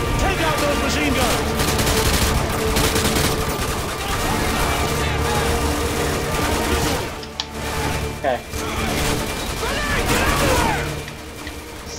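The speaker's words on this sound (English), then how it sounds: "Take out those machine guns!" Machine gun fire rattles in Modern Warfare combat: dense, loud bursts of automatic gunfire overlap with scattered shots and impacts. The barrage runs almost continuously, with a brief lull near the end, and voices talk underneath.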